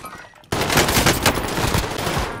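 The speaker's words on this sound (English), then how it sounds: "I'm taking fire!" Video game gunfire aimed at the player, bursting in abruptly after a quiet half second and continuing as loud, rapid automatic fire close by until the end.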